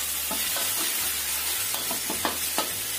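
Indonesian fried rice seasoning sizzling in hot oil while salt is stirred in, with a constant loud frying hiss and repeated scraping stir strokes of the spatula.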